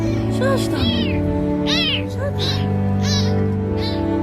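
A kitten meows repeatedly in short, high, wavering cries over a steady background hum, close to the microphone.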